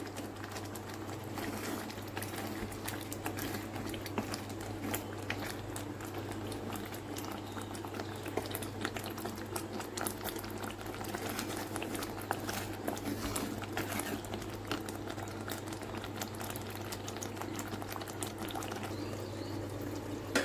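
A curry of beans and meal maker simmers in a pan with oil rising to the surface, making a faint, steady bubbling and popping that continues alone for twenty seconds.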